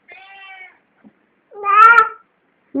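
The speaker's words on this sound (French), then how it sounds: "Miaou, le chat." A cat meows in a bedroom on waking, with a drawn-out call, a pause, then a louder rising-and-falling meow and the start of another, close and clear, no talk over it.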